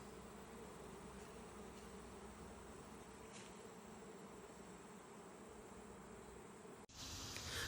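Honeybees swarm around sticky, emptied honey frames at a homestead hive, a dense continuous buzzing hum close by, steady throughout and briefly interrupted before resuming louder.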